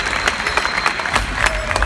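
A large crowd at the Call of Duty XP 2016 esports event claps and cheers steadily, dense applause with sharp bursts throughout, loud and close.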